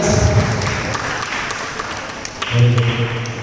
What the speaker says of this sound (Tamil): கைத்தட்டு கைத்தட்டு கைத்தட்டு கைத்தட்டு.